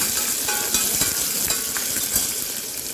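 Curry leaves, green chilli and crushed garlic cloves frying in hot oil for a Saidapet-style vada curry, a steady dense sizzle with faint crackles throughout, close and unbroken.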